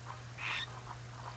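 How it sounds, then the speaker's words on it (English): Squawks the parrot in the Donkey Kong 64 video game, a single short, faint squawk over a steady low background hum. "Stop squawking."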